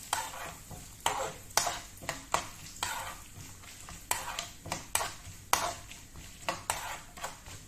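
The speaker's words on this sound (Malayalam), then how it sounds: "നമുക്ക് എള്ളിട്ട് കൊടുക്കാം." Sesame seeds fry and get stirred in a pan for a sweet snack, a steady soft sizzle punctuated by repeated scraping strokes of a spoon against the pan at a fairly regular rhythm, close up with no talking.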